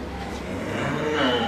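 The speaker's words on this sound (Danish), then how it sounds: "Den gamle, grå, jyske ko" An old grey Jutland cow moos in one steady, drawn-out call lasting the whole moment, close and fairly loud, with no voices.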